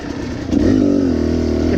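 A 2018 Beta 300 RR two-stroke dirt bike revs close by, its engine note climbing into a loud steady buzz after a brief lower idle, with no voices.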